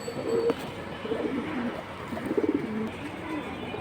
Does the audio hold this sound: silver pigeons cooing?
yes